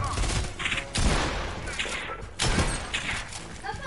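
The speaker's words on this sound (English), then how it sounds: "let me get the mini gun" Fortnite gameplay with a minigun blasting in rapid bursts, loud and close, with heavy thumping impacts and crashes between the volleys while a player talks over the gunfire.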